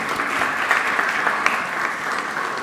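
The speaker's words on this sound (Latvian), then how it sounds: "Sagaidām arī ar aplausiem." Audience applause greeting the Medspace team at the JA Unlocked 2023 event, a steady dense wash of many hands clapping at even loudness, with a few sharper claps standing out and no speech over it.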